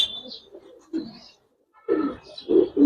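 A pigeon coos close by in a few short throaty bursts, with a soft pause between phrases and a brief high chirp near the start, and no voices.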